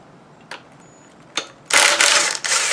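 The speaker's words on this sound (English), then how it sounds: "So we're gonna loosen the bolts." Ratchet clicks while loosening bolts on a 1968 Triumph TR250 engine during a rebuild, with two brief separate clicks followed by a loud, sustained run of rapid ratcheting close by, with no talking.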